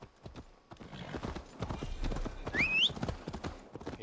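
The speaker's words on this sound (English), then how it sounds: "Hands-free horse." A horse gallops in Assassin's Creed Valhalla with rapid, rhythmic clip-clop hoofbeats running the whole time, and a brief high neigh cuts in partway through.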